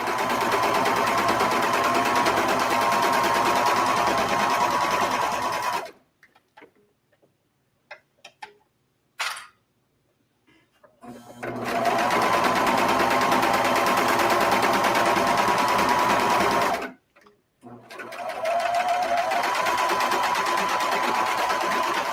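A sewing machine stitches steadily and rapidly over the joined side seams of a sweatshirt, in two long runs split by a short quiet pause with a few small clicks.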